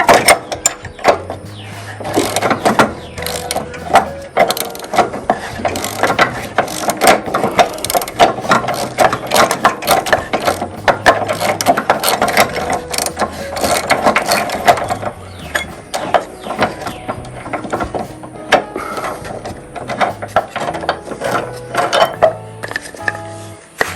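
Loud, rapid ratchet clicking comes in repeated bursts as a spindle is undone on a Snapper 54-inch lawn mower deck, with metallic clanks and short pauses between runs of cranking.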